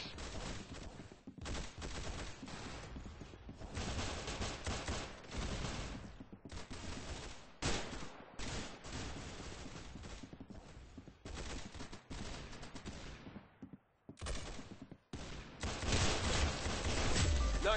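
Rapid bursts of gunfire in a Roblox video game, dense and continuous with brief gaps, loud and harsh, with no talking over it.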